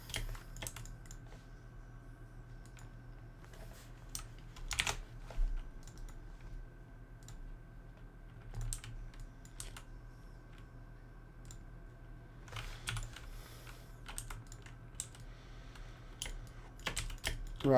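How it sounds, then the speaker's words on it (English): Rapid clicking of a mechanical computer keyboard being typed on, close and steady with short bursts and pauses, over a low constant hum with no talking. "Sorry for the mechanical keyboard, dude. I know it's driving you nuts."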